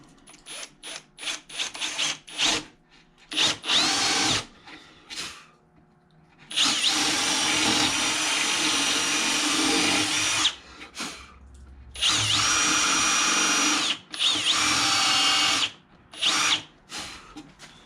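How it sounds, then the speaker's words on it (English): A power drill whirs into wood while hollowing out a carved eagle, in several bursts, short spurts at first, then two long sustained runs, close and loud. "I'll get rid of as much material as possible with the drill."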